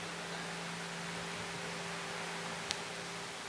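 An air cooler runs in a hall during a religious speech, giving a steady, even whoosh of air with a low mains-like hum beneath it and one brief click near the end, with no voices.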